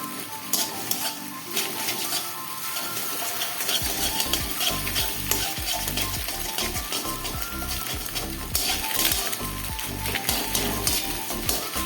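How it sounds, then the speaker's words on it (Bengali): Beaten eggs with a little salt frying and being stirred in a wok, a continuous loud sizzle with repeated scraping and rhythmic stirring strokes, close up, without talk. "ডিমটা একদম কুচি কুচি করে ভাজতে হবে"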